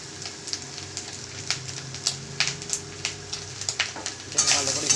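Spices with turmeric and salt frying in a pan, a steady close sizzle with scraping stir strokes at a regular pace, louder crackling toward the end.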